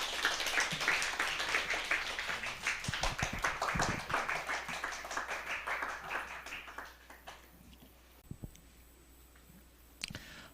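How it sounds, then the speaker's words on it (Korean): A church congregation at a Sunday afternoon service applauds to welcome the pastor: dense clapping that gradually thins out and fades, leaving a few scattered claps and taps near the end. "큰 박수로 환영해 주시면 감사하겠습니다"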